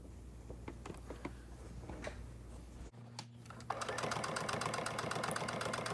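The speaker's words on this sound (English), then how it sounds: "So you sew all the way around your quilt." A sewing machine runs steadily while stitching binding around the edge of a quilt, a fast even mechanical chatter that starts after a brief pause and continues close and moderately loud.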